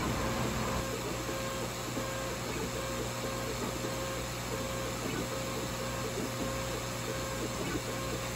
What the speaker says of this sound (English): that's the laser cutter, and this is it doing its thing.